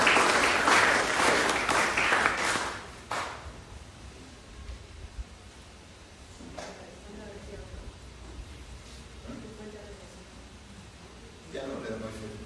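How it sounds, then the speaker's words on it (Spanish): A lecture audience gives a burst of applause that fades after a few seconds, leaving quiet room noise with faint talking and a few stray sounds. "un aplauso"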